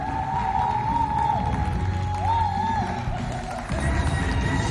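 Crowd at a FestAfrica cultural show cheering and whooping to welcome a guest, a noisy sustained roar of shouts and applause with some raised voices standing out.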